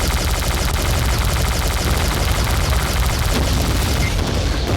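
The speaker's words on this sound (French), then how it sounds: "Le bon vieux fusil plasma me semble indiqué" A plasma rifle fires in Brutal Doom, a dense, loud, continuous burst of rapid crackling shots that fills the whole stretch without pause.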